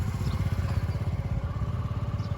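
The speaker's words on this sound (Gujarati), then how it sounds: "બાઇક ની રાઈડ કરવા તૈયાર થઈ ગયા છે સ્કૂટર ચાલુ કરીને" A scooter engine running after being started for a ride, a close, steady low puttering with an even pulsing rhythm that continues unbroken throughout, with no speech over it.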